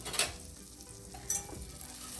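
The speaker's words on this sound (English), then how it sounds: "once you got your butter down, okay, sprinkle your flour in there." Flour sprinkled into melted butter in a pan sizzles steadily, with two brief, brighter crackling bursts as it lands, one near the start and one midway.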